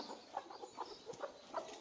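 A native country hen clucking in short, agitated bursts while being picked up, close and fairly quiet, repeated several times in under two seconds.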